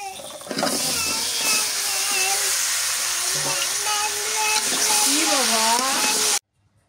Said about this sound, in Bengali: মশলা কষানো হয়ে গেছে, এবারে যে সিম আর আলু দিয়ে দিই।